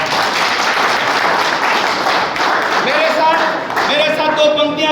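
A crowd at an outdoor political rally in Bamdoli village, South Delhi, claps in a dense, loud sustained wave with cheering voices mixed in.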